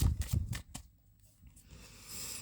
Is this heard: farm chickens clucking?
no